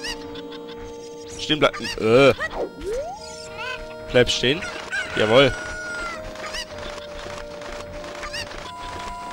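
A cucco chicken in the game The Legend of Zelda: Ocarina of Time crowing and clucking in loud bursts against steady game music, while someone talks over it.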